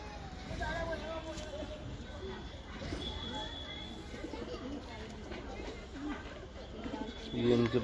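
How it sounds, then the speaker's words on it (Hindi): Pigeons, including Madrasi pigeons, cooing softly outdoors with other birdsong and faint background activity. Someone talks over the birds throughout. "बहुत शानदार कबूतर है ये भाई, सुबह पकड़ा था मद्रासी कबूतर"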